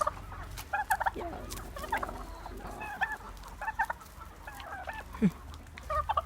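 Clucking chickens and a turkey's gobbling close by as they are fed grass, with scattered bursts of bird calls over a steady low hum.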